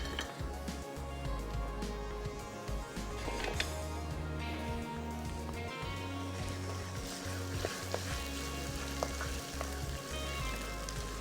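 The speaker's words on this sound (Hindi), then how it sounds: "अब इसमें ये कीमा डाल के इसकी करेंगे अच्छे से भुनाई" Minced meat sizzles in a pan with softened onion and ginger-garlic paste, a steady crackling fry with intermittent stirring and scraping, close and continuous.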